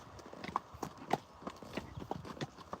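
Friesian horses' hooves clip-clop in a steady walking rhythm on a farm, a string of light, fairly close knocks with no voices over them.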